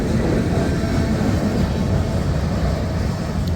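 A CSX train rolls through a road crossing in the rain, a steady, dense rumble and hiss of rail cars and rainfall that holds constant and fairly loud throughout.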